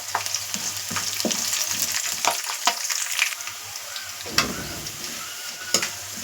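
Curry leaves fry in hot oil for Rayalaseema uggani, giving a steady crackling sizzle with scattered pops and a few stirring knocks, close and without talk.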